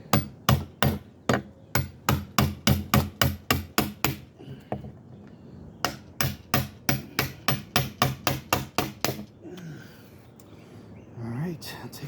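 Rapid rhythmic wooden knocks, like chisel or mallet strikes while beveling the edge of a slab wood table, come in two fast runs of about a dozen sharp close hits each, separated by a short pause and followed by brief quiet talk.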